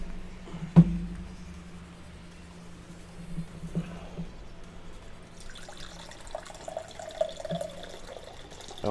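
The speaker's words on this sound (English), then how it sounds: "we're pouring it out of a box of cider" Cider pours from a box into a glass as a faint liquid trickle and splash, quiet at first and then a brighter, steadier stream in the second half, with no talking.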